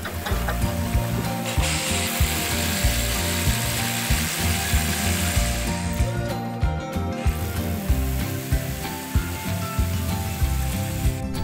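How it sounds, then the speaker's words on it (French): A power drill works continuously through a wall to fix awning brackets, giving a grinding, rattling mechanical whine with regular clicking pulses. The sound is close and steady and eases briefly near the middle, with no talking. "il n'y a plus qu'à percer et à fixer"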